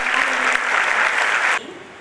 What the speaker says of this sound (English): Let's give a big round of applause for